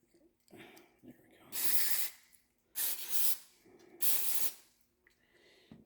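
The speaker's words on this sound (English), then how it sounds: "So I'm going to shoot some brake clean on it quickly." Brake cleaner sprayed onto a Coleman 2.6 hp engine carburetor in three loud aerosol hissing bursts, each about a second long, with quiet pauses between.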